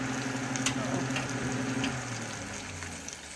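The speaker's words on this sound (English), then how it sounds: "go ahead and add that meat in there, and we're going to sear all sides" Beef roast searing in oil in a hot skillet on a stovetop, giving a steady, close sizzling hiss that holds throughout and eases slightly toward the end.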